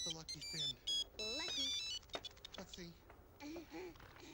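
A mobile phone rings with an incoming call, a bright melodic ringtone playing in repeated bursts close by, with a voice speaking over parts of it.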